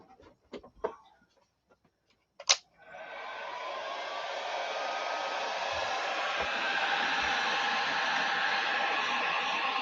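A few light taps and clicks, then a heat gun switches on and blows a steady, loud, hissing rush of air while warming the plastic body of a HoBao RC car so it can be bent.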